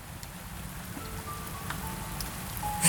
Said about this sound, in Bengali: এরই মধ্যে বৃষ্টিটা বোধহয় একটু বেড়েছে, জলের ফোঁটা এসে ওদেরকে ভিজিয়ে দিয়ে যাচ্ছে।